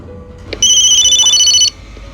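A telephone ringtone in the video game Memento Mori, a bright electronic trill that rings once for about a second, loud and close over a low ambient hum.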